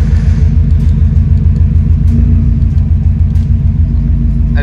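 Subaru STI exhaust with its valve fully open while cruising: a deep, steady, close rumble of engine and exhaust holding an even drone throughout, with no talking.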